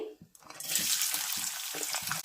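Thinly sliced onion dropped into hot oil in a pan, a steady bright sizzle rising after a brief clink and holding at moderate loudness, with faint stirring knocks underneath.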